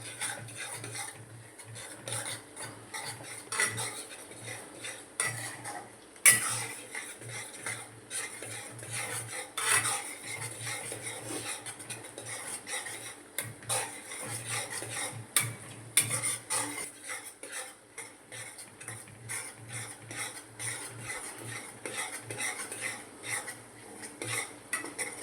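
A spoon scrapes and clinks steadily against a pan as turmeric and spices are stirred for a paneer and cashew curry, the metallic rhythm continuous and close throughout with no talking.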